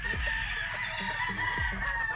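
A six-year-old white-legged bulik gamefowl rooster, a Gilmore cross at a gamefarm, clucking and calling close by in short repeated bursts.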